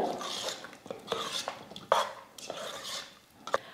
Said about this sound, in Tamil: இப்போ வறுத்த முந்திரி பருப்பு நெய்யெல்லாம் சக்கரை பொங்கலில் சேர்த்துக்கலாம். எல்லாம் சேர்த்து நல்லா கலந்து விட்டுடுங்க.